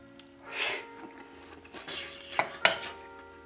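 A knife scrapes and clinks against a plate while cutting veal cordon bleu filled with bacon, producing a couple of soft scraping strokes and then sharper metallic taps and clicks close to the listener, with no talk.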